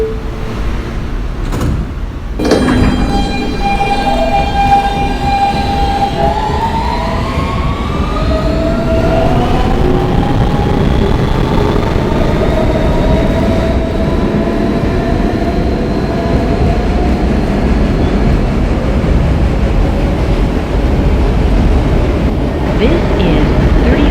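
An R160B Siemens W local subway train on a New York line runs with a loud, close rumble, with an electric motor whine rising in pitch as it accelerates, and a faint voice talking under the noise.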